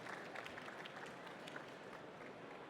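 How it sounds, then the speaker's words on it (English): A tech summit audience claps to welcome a startup pitch speaker onto the stage, a faint, dense wash of applause heard from a distance, steady and even throughout. "Please give a round of applause and welcome Howard from Alknoma onto our stage."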